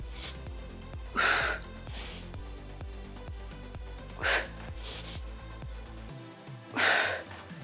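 Sharp, forceful exhales and gasps come in three loud bursts over pulsing background music during an intense abdominal workout.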